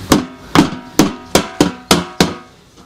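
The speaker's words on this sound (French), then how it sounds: "Petit coup de marteau." A hammer strikes rivets on a vehicle being modified, seven sharp metallic blows in a steady rhythm about half a second apart, close and loud with brief ringing decay.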